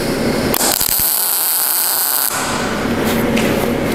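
Short bursts of crackling, buzzing arc from a YesWelder Firstess MP200 MIG welder tack welding metal, a loud sizzling hiss that starts, holds for a couple of seconds, then cuts off, followed by shop noise.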